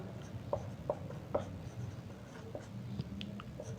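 Marker or chalk tapping and squeaking on a board while writing a number, a quiet run of short strokes and taps over a faint background hum.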